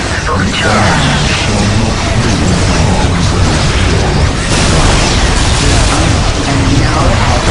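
Eldar prism cannons firing during a battle in the real-time strategy game Warhammer 40,000: Dark Crusade, a dense, loud wash of crackling blasts and booms filling the whole stretch, with game voice lines mixed in.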